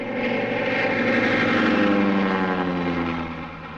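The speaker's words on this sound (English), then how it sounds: "It's our new plane." Propeller airplane engine from a 1938 film, a steady droning hum with a rhythmic throb that swells slightly as the plane passes, fairly close and loud, then fades a little at the end, no talk.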